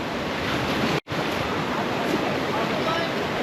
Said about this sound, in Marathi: हा जो समुद्र आहे हा स्वीट वॉटर लेकच्या समोर आहे